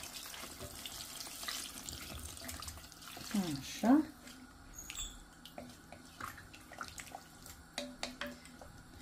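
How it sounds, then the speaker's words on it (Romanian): Water poured into a cooking pot of chicken stew, a steady splashing stream that swells briefly in the middle, with a person talking over it in a home kitchen. "Și acum punem apă."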